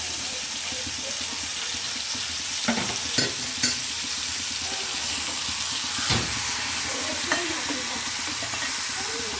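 Half a kilo of washed chicken sizzles and fries in a pan with oil, a steady loud crackling hiss broken by several scraping stirs of a spoon, close up.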